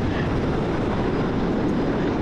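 An F-14 jet engine running above idle, on the ground in the DCS flight simulator, makes a steady, loud, broadband roar that holds level throughout with no voices.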